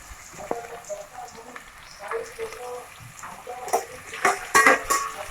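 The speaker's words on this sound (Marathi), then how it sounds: "कांदा ना चांगला स्मॅश करून घ्यायचा फुल गॅसवरच ठेवायचं मग तो लगेच भाजून जातो" Onion being smashed and roasted in a pan over full flame for Kolhapuri misal, heard as soft scraping and pressing with a faint sizzle, building to sharper clanks and taps of a utensil against the pan near the end.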